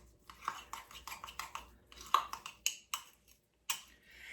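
Knife stirring cocoa powder and brownie batter in a cup, a series of quick, light metallic clinks and scrapes in an irregular rhythm, close and fairly quiet with short pauses between.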